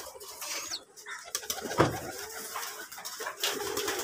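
A sick young pigeon, restless and hungry, gives faint intermittent calls with a brief flutter, quiet and close against a low background.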